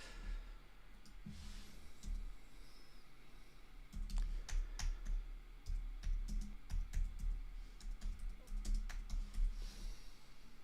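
Someone types on a computer keyboard nearby in uneven bursts, crisp key clicks coming in quick runs with short pauses between them.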